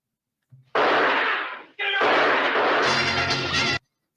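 Revolver gunfire in the 1971 film Shaft trailer sounds as loud, harsh bursts of shooting and crashing, one roughly second-long blast followed by a longer sustained barrage, ending abruptly into silence.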